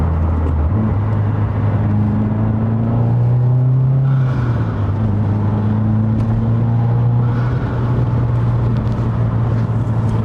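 A 2022 Subaru WRX with a VB-chassis exhaust drones loudly from close by while pulling in second gear. The engine pitch climbs slightly, then settles into a steady rumble with no break.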